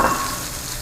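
Vegetables stir-frying in a hot pan give a brief, loud, steady sizzle with a faint scrape at the start.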